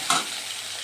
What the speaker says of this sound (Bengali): এগুলোকে এখন আমি টমেটোকে ভালোভাবে একটু প্রথমে ভেজে নেব